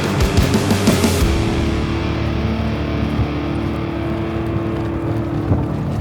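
Truck driving on a remote desert track in Utah, a loud, steady engine drone with rumbling road noise and wind throughout, slightly rougher and brighter in the first second.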